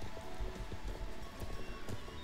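Horse hooves in Star Stable Online from a Dutch dressage-type horse, heard as a steady clip-clop rhythm of repeated hoofbeats at moderate loudness over a faint background bed.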